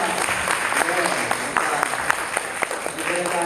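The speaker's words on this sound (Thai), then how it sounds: "ไอ้พวกเราชาวสอมฝันปรบมือต้อนรับอาจารย์สิรินาถทาวรรัตน์" An audience in a Thai church service applauds to welcome a preacher, the clapping dense and steady under someone speaking.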